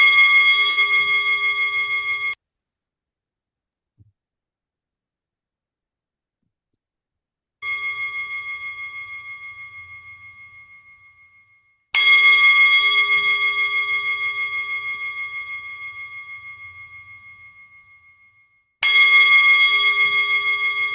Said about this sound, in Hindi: घंटी के एक एक नाद को गहराई से सुन।